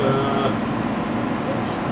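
A continuous rumbling ride inside the front car of a Los Angeles Expo Line light rail train, with a steady low roar and faint rattling throughout and no voices.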